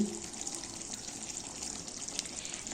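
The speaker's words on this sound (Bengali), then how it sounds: "এখন পরিমাণ মতন তরকারির জন্য জল দিয়ে দিচ্ছি" Water poured into a pan of curry with fried cauliflower, a steady continuous pouring and splashing wash heard close and alone for under three seconds, moderately quiet.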